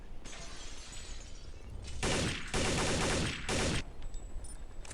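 Bursts of rapid automatic gunfire in Counter-Strike: Condition Zero Deleted Scenes, loud and harsh, come in two or three sustained volleys separated by short pauses, with quieter ambient noise around them.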